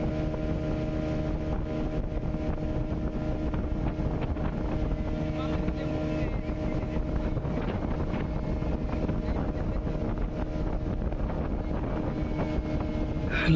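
A motorboat speeding across Owk reservoir, its engine droning steadily and loudly throughout with constant wind buffeting and water rush, no pauses.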